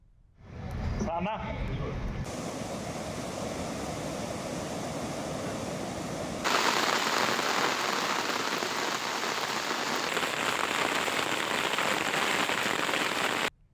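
Heavy rain pours down in a dense, steady hiss, loud and close, after a brief burst of other sound at the start.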